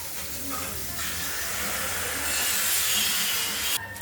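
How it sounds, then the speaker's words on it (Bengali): Potatoes fry in hot oil in a home kitchen while a Bengali rui fish curry is being made, giving a steady, fairly quiet sizzling hiss that swells slightly before cutting off near the end. "আর ওদিকে আলু ভাজা চলছে"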